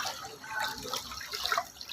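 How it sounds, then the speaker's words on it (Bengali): Floodwater from heavy rain in Dubai pours into a car garage shop, a faint, steady rush and trickle of water heard briefly and on its own. "এই গাড়ির গ্যারেজের দোকানে দিয়ে পানি ঢুকে গেছে গা।"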